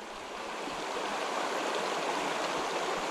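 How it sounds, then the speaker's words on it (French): A trout river flows in a steady, close, even rush of water that rises slightly at the start and then holds constant, with no voices. "Cette rivière est vraiment magnifique."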